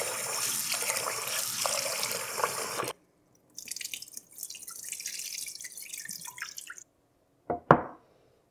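Basmati rice rinsed in water, with splashing and running tap water for a few seconds, a pause, then softer swishing and a final loud splash, close by with no talk.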